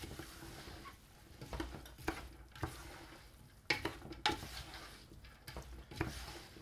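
Potatoes and minced meat fry in a pan, a low steady sizzle broken by repeated scraping and stirring clatters of a utensil against the pan, close and without speech.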